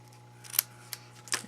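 Paper snips trimming ribbon on a handmade gate fold card, three quiet crisp snips spaced apart, close and alone over a faint hum.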